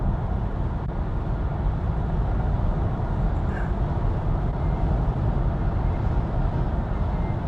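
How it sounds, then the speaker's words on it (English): Steady broadband rush of wind noise in a BMW i4 eDrive40 driving with crosswinds, mixed with road and tire roar, constant and close inside the cabin with no talking. "You can hear a little bit of wind noise now because we have crosswinds."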